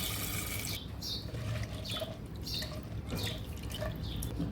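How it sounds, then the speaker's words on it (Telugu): Toor dal is washed by hand in a vessel of water, with repeated splashing swishes and dripping in an uneven rhythm, close and moderately loud. "కందిపప్పును వాటర్ వేసుకొని 2-3 టైమ్స్ వాష్ చేసుకోవాలి."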